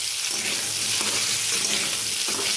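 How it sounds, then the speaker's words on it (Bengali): Lentils go into a pan of fried green tomatoes, giving a steady, close sizzle of frying with a few soft stirring scrapes and no voices. "দেখুন এখন আমি ডালটা দিয়ে দেবো।"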